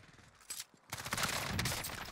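Rifle fire from an M13 in Call of Duty Warzone on Rebirth Island: a quick run of sharp shots, then a denser burst of rapid gunfire, moderately loud.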